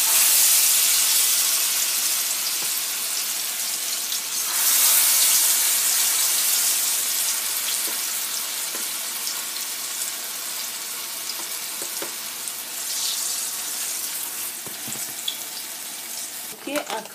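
Akra fritter batter frying in hot oil gives a continuous loud hiss and sizzle, swelling as more batter goes in, with occasional pops and small clatters throughout.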